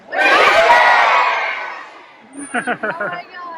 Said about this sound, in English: we want you to yell as loudly as you can, whiskers